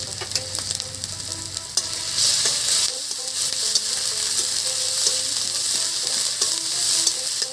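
Garlic paste fries in hot oil in a pan for a village-style catfish curry, giving a loud, continuous close sizzle broken by the clatter and scrape of stirring.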